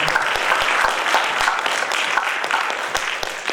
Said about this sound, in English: So I think he deserves another round of applause. Let's do that.